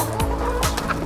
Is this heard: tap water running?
no